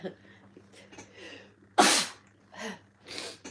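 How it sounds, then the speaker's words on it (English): One sharp, loud sneeze bursts out close to the microphone after a few quiet breaths, followed by soft breathing and small vocal sounds. "I'm just about to sneeze"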